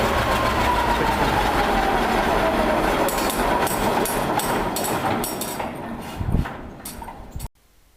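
A John Deere Model R diesel tractor engine roars loudly and steadily, with a pitch sweeping as it is revved up and down. The sound then cuts off abruptly near the end.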